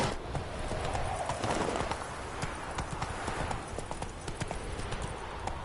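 Roach the horse's hooves clip-clop in a quick, steady galloping rhythm in Witcher 3, the beats close and continuous over a soft game ambience, with faint bird-like chirps in the background.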